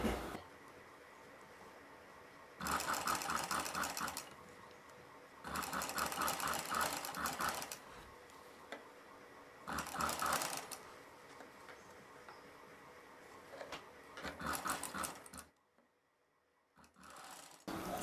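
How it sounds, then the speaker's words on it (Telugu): A sewing machine stitches thread piping onto an already-sewn blouse, running in several loud, close, steady bursts of a few seconds each with short pauses between, then a brief silence before it resumes. "ఇలా బ్లౌజ్ పక్కనే ఉండేలాగా పెట్టుకొని కుట్టు వేసుకోవాలి"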